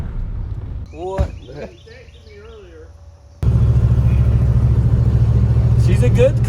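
An old Ford Bronco barn find drives along; after a quieter stretch with speech, the engine and road rumble jump in loudly and hold steady and close to the end.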